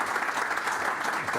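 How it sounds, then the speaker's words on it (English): A crowd applauding steadily for panelists at a company investor day, dense clapping filling the whole short stretch at a fairly loud level. "if you give me a round of applause to our panelists"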